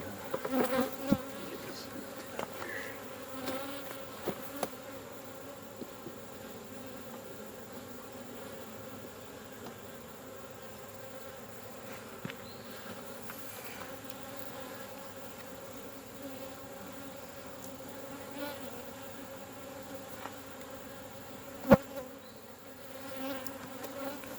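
Bees drone steadily around a hive comb on a farm, a close, continuous buzz with occasional louder passes near the listener and a few faint knocks.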